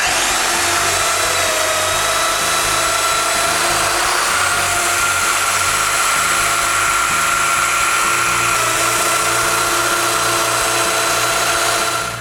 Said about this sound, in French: je perce les mortaises ces traverses